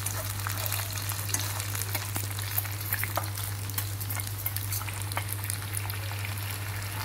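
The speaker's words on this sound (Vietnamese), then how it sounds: "mình sẽ đổ vào mình ngào ha." Fried tofu skin sizzles and bubbles in a pan with soy sauce and sugar, a steady dense crackle at close range, with a low constant hum underneath and no speech.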